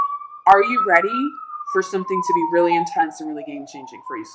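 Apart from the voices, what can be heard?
emergency vehicle sirens in the background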